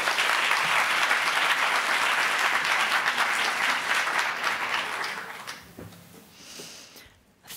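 Audience applause at a conference for a lightning talk presenter, a dense, loud wash of clapping that holds steady for several seconds, then thins and fades toward the end.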